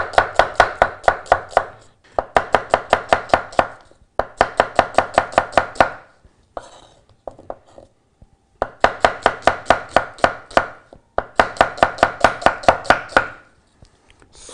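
A knife chops onions on a board in rapid, even bursts of crisp, close taps, each run lasting a couple of seconds and separated by short pauses.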